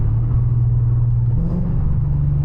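Lexus IS F with headers and tune pulling in fifth gear, a loud deep steady exhaust drone that rises slightly in pitch partway through, close and alone.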